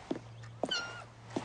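A domestic cat meows three times in short, separate calls, close and fairly clear over a steady low hum.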